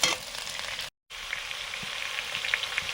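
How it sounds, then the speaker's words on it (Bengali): Potatoes and onions sizzling in a pan, a steady close frying hiss with small crackles, broken by a short moment of silence before the sizzle resumes. "পেঁয়াজটা কিছুটা ভাজা হয়েছে, এর সঙ্গে দিলে আলুটা ভাজা হয়ে যাবে।"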